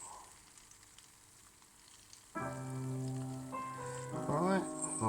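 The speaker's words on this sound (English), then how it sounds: "Look, they're all sizzling away." Soft background noise gives way to a sudden loud, steady sizzle of roasted tomatoes, crackling continuously up close, with faint clinks near the end.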